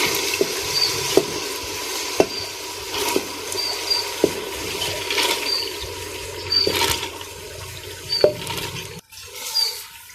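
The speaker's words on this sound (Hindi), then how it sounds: "दाल विच ऐड करन तो बाद असीं इहनूं थोड़ी देर भुन लवांगे।" Soaked chana dal stir-fried in a pan for a dhaba-style dal, a steady soft sizzle with repeated scraping strokes of a spoon at an even rhythm, close by, with no talking.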